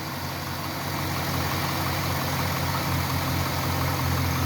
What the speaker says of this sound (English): with motor running